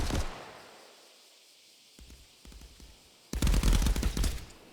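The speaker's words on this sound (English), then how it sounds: "Sounds like we got some gunfire going on from the far sides." Bursts of rapid gunfire crackle from a VR shooter game match, a long roaring volley at the start, then scattered short shots and a loud dense burst of automatic fire near the end.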